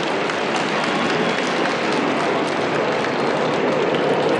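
A crowd applauds military jet pilots flying in formation at an air show, a dense, steady wash of clapping that stays loud and even throughout.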